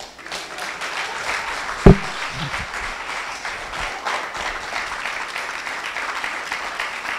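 An audience at a lecture event claps steadily, a dense, even patter of many hands filling the room with one sharp thump early on, and little talk.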